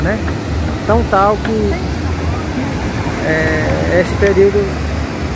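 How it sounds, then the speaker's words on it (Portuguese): Cachoeira do Urubu waterfall gives off a continuous, broad rushing roar, while someone talks close over it and another voice is briefly heard in the crowd. "O interessante é ver a queda d'água"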